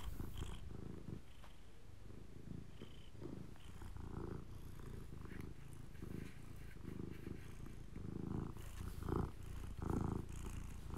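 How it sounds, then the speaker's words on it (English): A cat purring close up, a continuous rumbling purr with soft rhythmic pulses of breath, steady and intimate, with faint higher rustles scattered over it. "Aww. What a beautiful cat."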